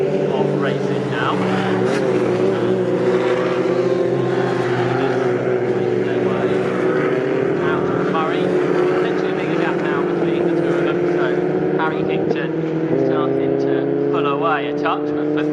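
Junior saloon race cars race at Snetterton circuit. Several engines drone together in a steady, loud, overlapping roar that holds throughout, with pitch shifting slightly as cars jostle near the end of the laps.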